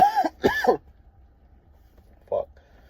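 Two harsh, hard coughs in quick succession, then a pause and a single quieter cough-like burst.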